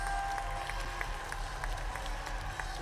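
Crowd at an East vs West All Valley All Star boys basketball showcase cheers and claps steadily, a dense sustained roar with scattered claps throughout.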